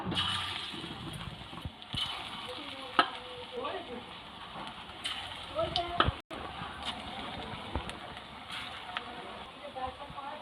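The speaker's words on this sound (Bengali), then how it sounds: "পলতা পাতার বড়াগুলো এবার একটা একটা করে ভেজে নেব ছোট্ট ছোট্ট করে তেলের মধ্যে দিয়ে দিলাম" Small pointed gourd leaf fritters go one by one into hot oil in a home kitchen, giving a steady sizzle and bubbling with occasional stirring clatter and utensil taps close by.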